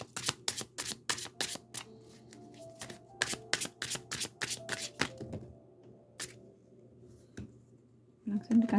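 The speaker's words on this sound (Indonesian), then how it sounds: "kita akan mulai men-shuffle kartu tarotnya" Tarot cards are shuffled by hand in quick bursts of crisp riffling slaps and flutters, close up, pausing briefly between rounds, with a soft voice talking under and after the shuffling.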